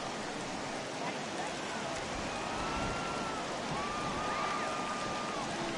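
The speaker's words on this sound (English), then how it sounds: "the rain starting to intensify here. It's coming down a little heavier now" Steady, dense rain hisses over a ballpark in a baseball video game, a constant wash of noise with faint tonal whistles and crowd-like murmur beneath, no clear talk.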